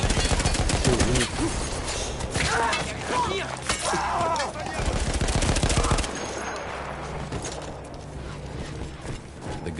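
Machine gun firing in a PS4 war video game, a heavy gun manned by Austro-Hungarian troops, rattling in loud rapid bursts with mechanical clatter and shattering impacts, a voice talking over parts of it.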